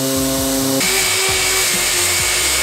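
Power sander working worn paint off a boat hull, a close, steady whirring drone with a pitch shift partway through as the tool runs continuously and loudly.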